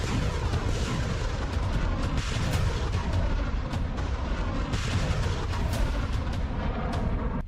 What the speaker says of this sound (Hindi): एक 152 mm के ये गोले 25 किलोमीटर तक दुश्मन पर सटीक हमले कर सकता है